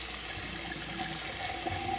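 A bathroom sink faucet runs steadily, a continuous close hiss of flowing water with no voices and no change in level throughout.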